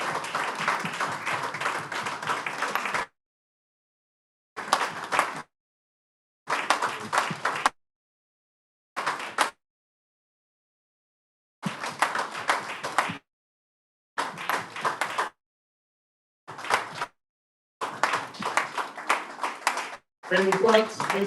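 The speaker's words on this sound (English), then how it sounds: "When you continue to clap for Catalonia" Bursts of audience clapping at an independence day event honouring Catalonia alongside Biafra, arriving in several short rounds separated by silent gaps, with people talking over parts of it.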